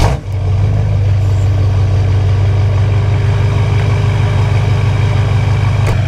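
A Duramax diesel pickup truck engine idles steadily and loudly nearby in the rain, a low rumbling chug that holds constant throughout with no speech.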